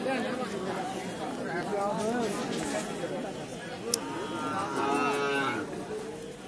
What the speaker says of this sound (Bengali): শাহিওয়াল খুব সুন্দর একটা বাছুর।